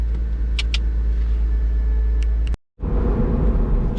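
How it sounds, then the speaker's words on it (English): A Porsche Boxster's rebuilt flat-six engine drones steadily from inside the car while driving on the road, a loud low rumble with a few faint high chirps and a brief sharp dropout near the end. "Oh, listen to that flat 6."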